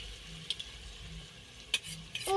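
Eggs frying with a faint sizzle in a pan, with soft stirring scrapes and a few utensil clinks against the pan at intervals.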